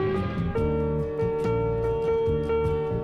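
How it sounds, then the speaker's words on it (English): Smooth, sustained piano chords play steadily with soft rhythmic accents, mellow and continuous with no voices. "So just some nice piano, very smooth"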